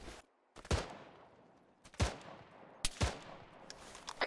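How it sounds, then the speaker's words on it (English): Video game gunshots ring out as sharp, separate cracks, about five or six spaced over a few seconds, with quick decaying tails and near silence between them. "I shot him."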